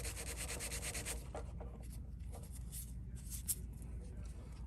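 A lawn mower brake cable being worked in and out of its housing with WD-40, giving a steady close-up scraping, rubbing friction sound that continues throughout.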